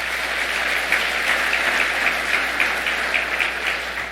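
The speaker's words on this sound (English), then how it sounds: "Please give him a round of applause." Convention attendees at an annual meeting session clap together, a sustained, even round of applause that stays loud throughout with no voices over it.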